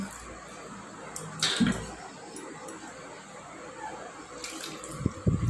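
Water poured over a small Gopal idol during a home bathing ritual, making soft intermittent splashes and trickles with a couple of brighter splash bursts, close and fairly quiet against a low hum.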